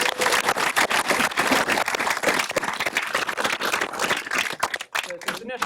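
An audience at a data storytelling meetup applauds the speakers with a dense patter of clapping, mixed with voices in the room, tapering off near the end.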